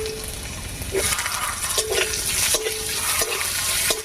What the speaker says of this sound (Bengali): পেঁয়াজ আর রসুনটা বেশ লাল লাল করে ভাজা হয়ে গেছে